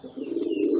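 Fast-flying pigeon giving a single short, low, soft coo, close and steady, with nothing else around it.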